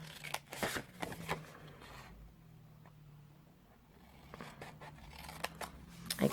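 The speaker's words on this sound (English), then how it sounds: "on one piece you're going to cut up the score lines, these two little corners, and just cut them away completely" Scissors snip away the small corners of a card gift bag along its score lines, making a few close, crisp cuts separated by quiet pauses.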